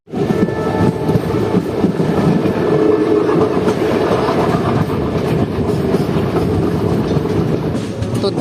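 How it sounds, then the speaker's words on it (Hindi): An ICF-coach Danapur–Jogbani Express rolls out of Darbhanga, its steady, loud rumble and rattling wheels running close and continuous for the whole stretch. "दरभंगा से अपनी ट्रेन ऑन टाइम निकल चुकी है"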